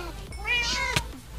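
A cat meows once in a video game, a rising and falling cry over a low background hum, followed by a sharp click.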